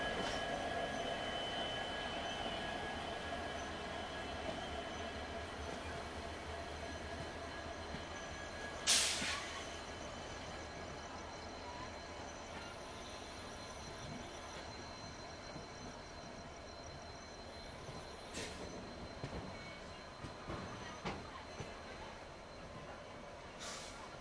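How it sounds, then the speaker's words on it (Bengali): A passenger train running after leaving Howrah gives a steady, continuous rumble of wheels and carriages, broken by a few short, sharp metallic squeals and clanks. "আমাদের ট্রেন সঠিক সময় 10টা 35-এ হাওড়া ছেড়ে গন্তব্যের উদ্দেশ্যে বেরিয়ে গিয়েছে"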